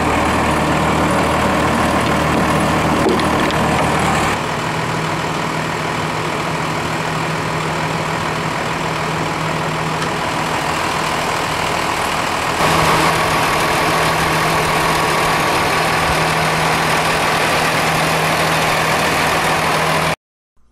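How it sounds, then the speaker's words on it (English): A bus fitted with a brand new Cummins 5.9 diesel engine idles close by, a loud, steady, even rumble that holds for about twenty seconds before cutting off abruptly. "So now the bus has a brand new Cummins diesel"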